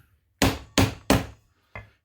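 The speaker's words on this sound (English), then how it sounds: "When it's round, I'm going to give it a good smack, and we're going to knock the leather right out of it." A maul strikes a tip cutter through belt leather in a workshop, landing three sharp, loud thuds in quick succession followed by a fourth lighter blow, each hit clean and close with no talking.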